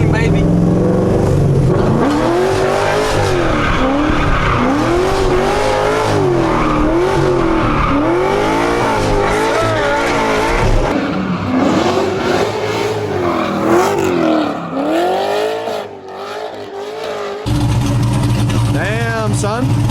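A Dodge Hellcat roars through a drift, its engine revving in repeated loud surges while tires squeal and skid, close and aggressive, with people talking and reacting in the car.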